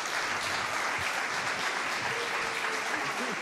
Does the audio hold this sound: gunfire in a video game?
no